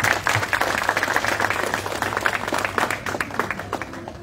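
A crowd in a Comorian restaurant in Marseille applauds, steady dense clapping at close range with a few sharper claps standing out, holding at an even level throughout.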